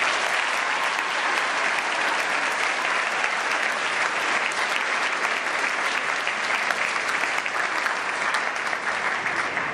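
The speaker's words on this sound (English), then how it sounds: "we owe a round of applause to the dedicated staff here" Loud, sustained audience applause at a graduation ceremony, a thick, continuous roar of many hands clapping that holds its level for the full length without any talk.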